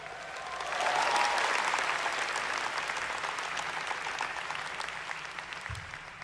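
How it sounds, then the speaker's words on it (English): An audience at a keynote watch party breaks into applause, a dense wash of clapping that swells within the first second and holds steady, loud and sustained. "Everybody give a round of applause to my mom and dad."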